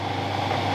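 A home-shop lathe turning at 85 RPM under power feed, drawing a threading die onto the work during batch machining; a steady, close motor hum with a low drone, with no speech.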